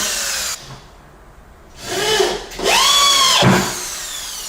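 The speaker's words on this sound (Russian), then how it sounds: "От одного края вот так вот и вдоль лаги идут саморезы." A power screwdriver drives self-tapping screws through plywood into a floor joist, two loud whirring bursts with a pitch that rises then drops as each screw seats, separated by a short quiet pause.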